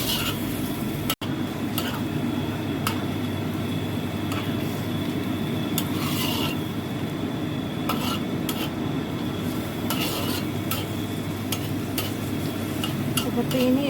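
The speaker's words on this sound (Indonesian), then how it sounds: "sudah mendidih, sudah beluk-beluk" Tofu and tempeh stir-fry sauce bubbling at a steady boil in a pan, a dense continuous simmering hiss with scattered small pops and a few brief clinks of utensils, no voices.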